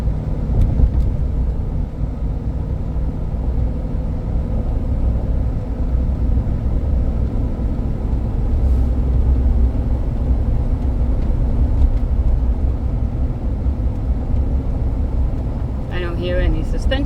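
A 2009 Dodge Ram 1500 pickup drives uphill with a steady, loud low engine and road rumble throughout.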